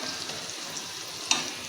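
Potatoes fry in oil in a pan with a steady soft sizzle, close and continuous, with a brief sharper crackle near the end.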